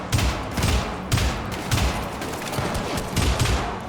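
Shotgun in a first-person shooter video game loosing explosive alternate-fire rounds, a rapid string of loud, punchy blasts roughly every half second, close and dense with no talk over them.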